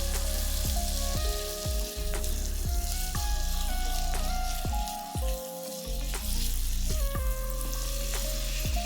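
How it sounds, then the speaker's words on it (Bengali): Chicken pieces fry with garlic in a pan, a continuous close sizzle broken by repeated scrapes and stirring knocks, with no voices. "এবার চিকেনগুলোকে রসুনের সাথে ভেজে নেব যতক্ষণ না চিকেনের রঙটা চেঞ্জ হয়ে আসে।"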